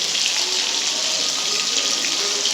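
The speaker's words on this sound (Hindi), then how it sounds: "अब इसमें हम यखनी ऐड करेंगे।" Stock (yakhni) pours into browned chicken in a pot, a steady watery rush that runs continuously and alone for a few seconds.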